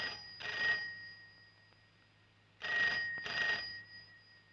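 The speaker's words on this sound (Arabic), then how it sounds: "تليفون عشان واحد اسمه وندوة" A telephone bell rings indoors in a dramatic Egyptian film scene, two distinct ringing bursts separated by a pause, fairly faint and heard alone without speech.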